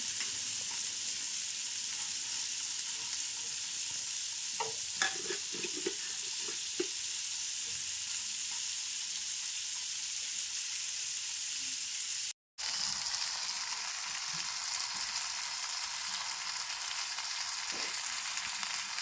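Masala fish fries in coconut oil with a steady, loud hiss and crackle that runs throughout, broken once by a brief cut, with occasional faint pops and scrapes beneath the sizzle.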